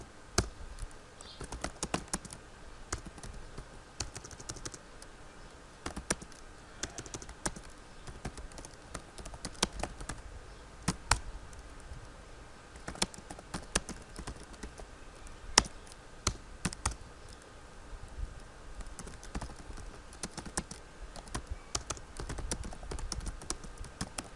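A computer keyboard clatters as text is typed into MS Word 2016, producing a long run of quick, uneven key taps and clicks with occasional louder strokes, close-miked but fairly soft, with no voice over them.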